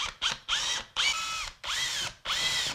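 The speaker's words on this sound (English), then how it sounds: "really I'm going to want to drill my hole here." A power drill whirs in four short, loud bursts with brief pauses between them, sounding close by, as it drills a hole in a wall.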